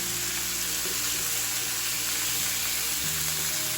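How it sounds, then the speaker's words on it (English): Beef for Texas beef bowls sizzles in a hot pan while being broken up and stirred, a loud, steady frying hiss with faint tonal sounds underneath. "Nice sizzle on that"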